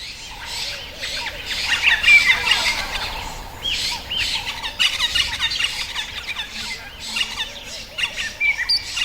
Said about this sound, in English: This is from a wild bird sanctuary.